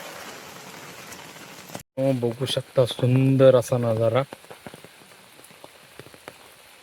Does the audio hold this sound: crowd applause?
no